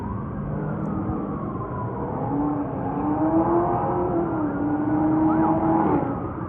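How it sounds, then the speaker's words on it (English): Car engines rise and whine in the distance near a baseball park at night as vehicles race away, a sustained revving drone that swells and holds. "you hear the cars racing off"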